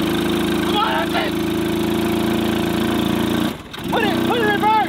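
A kids' ride-on toy tractor stuck in mud, its electric motor whining steadily and loudly up close, briefly dropping out, while children's voices are heard over it.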